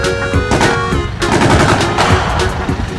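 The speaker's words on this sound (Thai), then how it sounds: "ได้ไงยิงปืนใหญ่แล้วนั่น ใครยิงไปตรงนั้นล่ะ" Dense, rapid booming cannon fire from a video game, a continuous barrage of loud blasts and impacts with no pauses, close and heavy.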